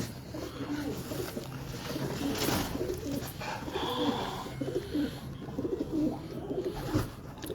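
A pigeon held in the hand gives low, soft rolling coos in repeated bursts, close and fairly quiet, over a background hum at night.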